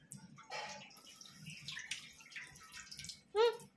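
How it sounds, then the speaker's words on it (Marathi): Water is poured onto the lid of a pot of cooking mutton curry, giving short splashing, trickling bursts with a brief louder splash near the end, close by. "तर आता आपण पाणी टाकायचं आहे झाकणावर"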